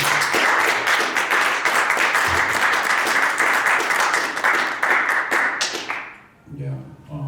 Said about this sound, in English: Clap it up for Halima, please.